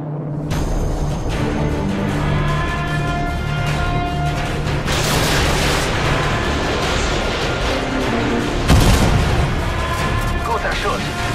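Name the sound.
missile explosions in a video game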